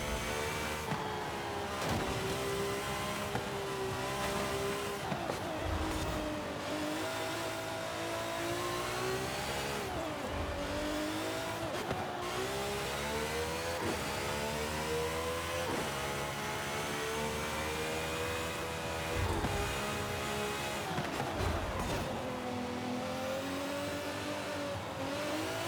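A race car in Forza Horizon 5, an S2-class machine, screams through gears with rising revs, brief dips at shifts and occasional tire squeal, loud and continuous throughout with no speech.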